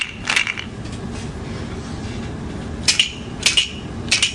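Small hand-held sound shakers from a matching game, rattling in three or four short bursts of shaking with quiet gaps between, close and fairly faint over a low background hum.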